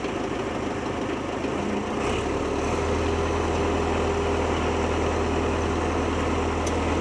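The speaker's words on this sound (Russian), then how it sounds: "вот мы завели трактор." A tractor fitted with a crane manipulator idles after starting, its low, steady engine drone running close and even for the whole stretch with no talk over it.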